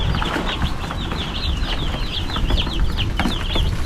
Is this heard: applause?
no